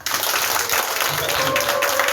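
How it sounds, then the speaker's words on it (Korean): A church congregation breaks into applause for its youth group during a youth dedication service: a short burst of dense, loud clapping filling roughly two seconds, with a faint tonal hum running underneath. "우리 위로와 격려의 박수 한번"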